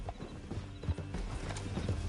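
Horse hooves clip-clop in the video game Red Dead Redemption 2, a quick irregular run of soft hoof knocks at a quiet level, with faint mechanical clinks and no speech.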